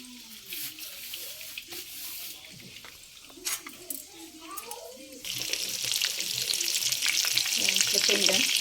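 Fish cutlets sizzling in a frying pan, a quieter spitting hiss under a speaking voice that swells into a loud, steady sizzle partway through, with some clinks and water-like sounds.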